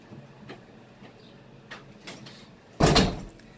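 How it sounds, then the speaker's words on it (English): A room door is shut with one solid thud. Faint, quiet knocks and rustles come just before it, and there is no talking. "Shut the damn door."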